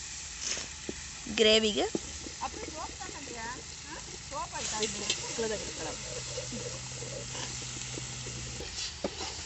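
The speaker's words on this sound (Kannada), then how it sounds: "ಈಗ ಚಿಕನ್ ಆ್ಯಡ್ ಮಾಡ್ತಿದ್ವಿ" Chicken pieces go into hot gravy for a village-style nati biryani, giving a steady hiss and sizzle under a person talking throughout.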